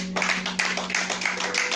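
A church congregation clapping in acclaim during a French-language worship service, a short burst of several quick claps close by, with a steady hum underneath.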